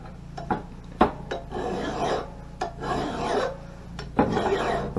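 A file rasps against the steel edge of an axe or splitting maul in separate scraping strokes, close and fairly loud, with irregular pauses and a sharp knock or two between passes.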